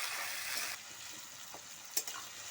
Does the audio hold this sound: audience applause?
no